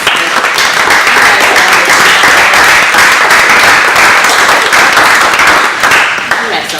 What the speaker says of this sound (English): give you guys a hand of applause, a round of applause